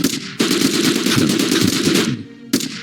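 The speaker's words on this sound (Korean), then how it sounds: "적진에서 기관총과 소총 사격을 동시에 가해왔다." Dense bursts of machine gun and rifle fire crackle continuously for about two seconds, a short lull, then another sharp shot at close range, loud and without any voices.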